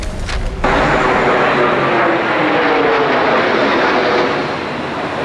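A hijacked jet crashing into the World Trade Center in news footage, heard as a loud, sustained broadband roar that swells in abruptly after a brief opening and holds steady for several seconds.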